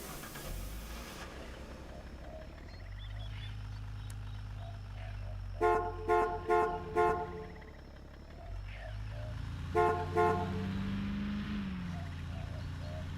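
A car driven in the video game Ranch Simulator, its engine droning steadily low throughout, with two clusters of short rhythmic horn toots cutting in midway and near the end.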